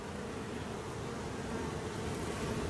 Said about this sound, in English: just going to shake all these bees off and then put these frames back into the Layens hive